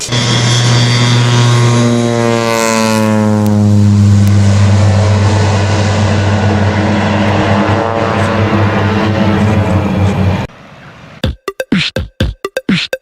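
A crop-spraying airplane spreading herbicide passes low overhead, its propeller drone swelling and then dropping in pitch as it flies by. The sound cuts to near quiet, broken by a few sharp clicks.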